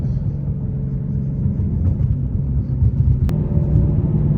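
Deep, loud rumble of a 1200 hp Ford Mustang Shelby GT500 nicknamed the Hulk, heard from inside as it accelerates in wet weather, a steady low roar with small surges, no talking.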